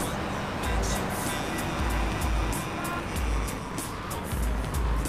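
Car engine roaring steadily as it drives in the video game GTA 3, a loud, continuous rumble with rhythmic low pulses and no talk.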